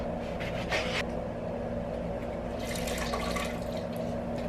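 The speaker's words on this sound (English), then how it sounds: "throw 1 cup of soaked nuts into the blender, a half a cup of water" Water poured into a blender jar holding a cup of soaked nuts: a steady splashing trickle with brighter bursts of sloshing near the start and again toward the end, over a constant low kitchen hum.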